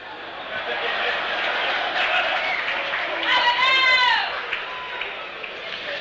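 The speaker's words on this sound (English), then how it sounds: "We get a bit of booming noise in our earphones from the crowd in the Bradman stand" A cricket crowd in the Bradman stand at the Sydney ground during an India versus Australia Test in 1978 gives a broad, steady roar with a swelling burst of cheers midway, under continuous commentary.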